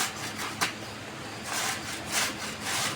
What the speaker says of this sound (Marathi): मी ह्या मोठ्या किसणीनं किसायला लागले